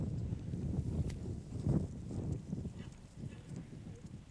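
Hooves of a horse being ridden in an equestrian training session, soft rhythmic clip-clop steps at moderate distance over a low rumbling background, no talk.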